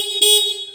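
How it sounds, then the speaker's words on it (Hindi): Simple electric horn on a vehicle, wired with a weak connection, giving one short thin tone under a second long, sounding feeble rather than full. "ये मेरा एक सिंपल हॉर्न है"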